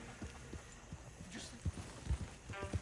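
Horse hooves pulling a coach in the video game Red Dead Redemption 2, a soft uneven clip-clop of hoofbeats under faint background noise, with a brief murmur of voice.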